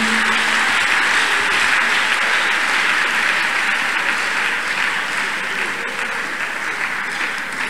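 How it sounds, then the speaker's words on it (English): Sustained, loud applause from a church congregation during Thursday prayer and testimony service, dense clapping filling the whole stretch without pause and no talk over it. "Every clap offering to Jesus."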